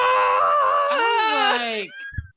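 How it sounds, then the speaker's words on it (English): A drawn-out, wavering scream in the style of the stock Howie scream film sound effect, loud and piercing, rising and bending in pitch before breaking off, followed by a brief thud. "This is called a Howie scream."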